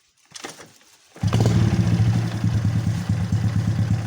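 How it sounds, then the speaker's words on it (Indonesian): A Honda Absolute Revo motorcycle engine cranks with a brief stutter, then catches and settles into a steady, loud, close idle with a rapid even putter. "Nah, kita hidupkan mesin,"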